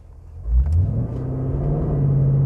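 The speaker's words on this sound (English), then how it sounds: "I'll build up the engine revs and then do a normal" A 2020 BMW X3 M or Jaguar F-PACE SVR engine revs up from idle in S mode before a launch start, a deep rising growl that then holds at a steady, droning higher pitch, close and loud.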